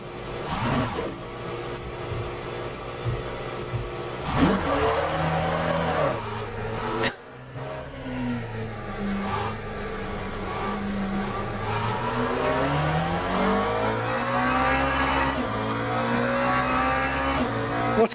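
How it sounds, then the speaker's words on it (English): A race car engine in the Le Mans Ultimate racing game roars loud and close, its pitch rising and falling through gear changes, with brief tire squeal and one sharp dip in the middle. "if you're driving a mid or rear engine car, the engine sound does come through my rear speakers"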